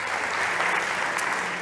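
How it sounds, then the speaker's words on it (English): Dense applause from an audience at a health startup competition, steady and even for a short stretch with no one talking over it. "big applause for Ignacio"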